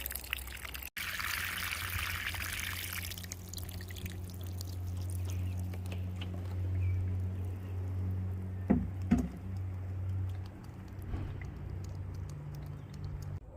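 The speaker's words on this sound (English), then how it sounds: "You can see how the water drips from these topmost layers and kind of filters down through each layer of pots until it reaches the bottom" Water trickles and drips down through vertically stacked strawberry pots after being poured in at the top, a soft continuous stream with a few sharper drips over a low steady hum.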